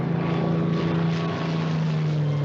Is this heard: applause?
no